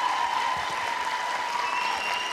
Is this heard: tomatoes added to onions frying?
no